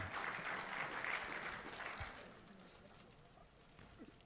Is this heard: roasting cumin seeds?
no